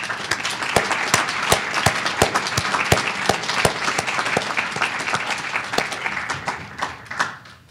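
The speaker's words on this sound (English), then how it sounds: "We should give them a round of applause." Audience at a university symposium keynote applauding the students seated in the front rows: sustained clapping with several sharp, close individual claps standing out over the crowd, tapering off near the end.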